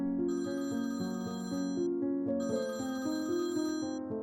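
Telephone ringing on the line while a husband calls his wife, as a radio drama effect: two bursts of a steady, bright electronic ring separated by a short gap, loud and close with no talk.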